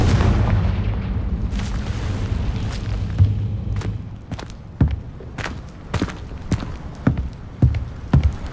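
A Confringo explosive spell in Hogwarts Legacy lands with a series of sharp booming blasts and thuds, spaced irregularly and growing more frequent toward the end, following a low rumbling start.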